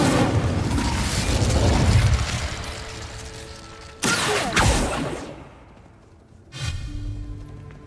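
An Incendio fire spell bursting in Hogwarts Legacy, a loud rumbling whoosh followed by a sharp crackling blast and a second fiery burst that fades away, no talking.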